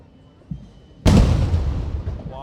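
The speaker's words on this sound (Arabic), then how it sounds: "اعتقد 7 طلقات مدفع او اكتر، يمكن 10 هنا" A cannon salute fired during a royal ceremony in Brunei: one loud, sharp blast that sounds fairly close, preceded by a softer thud and followed by a long, crowd-filled decay, with voices cheering in the background.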